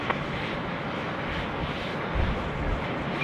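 An airliner landing on runway 34 left at Sydney Airport gives a steady, broad engine roar from a distance. It holds an even level throughout and swells slightly near the end, with no talking.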